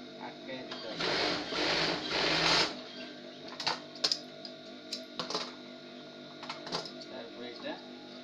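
Domestic sewing machine stitching a salwar, a loud steady whirring run at first, then short stop-start bursts of stitching mixed with soft handling clicks.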